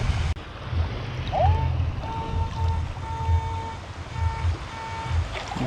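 Minelab Excalibur 2 metal detector giving a strong target signal outdoors, a clean electronic tone sounding in several short repeated pulses over steady water and wind noise.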